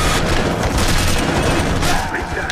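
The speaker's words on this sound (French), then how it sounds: "ça c'est les batteries anti-aériennes" Anti-aircraft gun batteries in Choplifter HD pound out a dense, continuous barrage of loud booming shots that fill the whole moment without a break.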